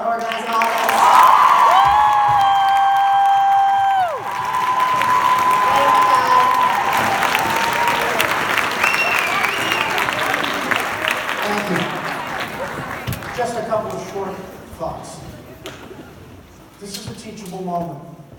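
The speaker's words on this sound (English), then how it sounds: "can we get a giant round of applause for Annabelle for organizing all this?" A school crowd at a student-led protest bursts into sustained applause and cheering for the student organizer, loud and close, holding steady for several seconds before thinning out into scattered claps and murmuring voices.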